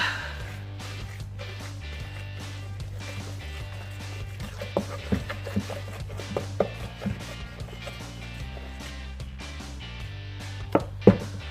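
Repeated knocking and scraping as rainbow cake batter is stirred in a bowl, irregular taps growing sharper toward the end, over a steady low hum.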